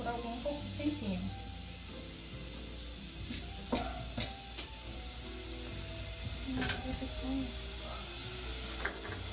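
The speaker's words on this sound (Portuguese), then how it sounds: "Vamos dar uma misturadinha e deixar ele dourar por algum pouco tempinho." Garlic and onion frying in a pan for a lentil bolognese, a soft steady sizzle with occasional scrapes and stirring clicks, under a person talking.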